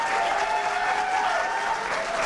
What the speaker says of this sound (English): Please give a general round of applause for all of them.